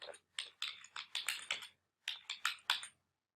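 Typing on a computer keyboard while entering a domain name during web hosting signup: two quick bursts of crisp key clicks, about six or seven keystrokes each, separated by a short pause, close and fairly quiet.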